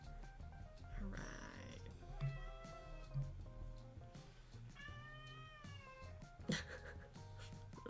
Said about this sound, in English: Little kitten noises.